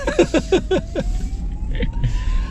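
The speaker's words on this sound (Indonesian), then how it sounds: "Nah, ini ada tetot-tetot nih. Baru aja diomongin ada wiu-wiu nih. Wah, itu kan ambulans beneran." A two-tone ambulance siren pulses repeatedly on a road in Spain, heard from inside a moving car over engine and road hum before it fades.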